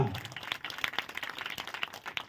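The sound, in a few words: congregation clapping loudly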